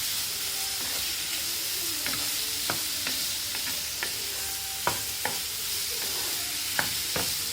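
Meat with onions and spring onion stalks sizzling in a hot pan, a loud hissing fry broken by sharp clicks and taps of stirring.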